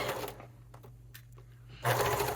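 A sewing machine stitches velvet forward and back, a steady close mechanical whir that drops briefly and then surges louder again near the end.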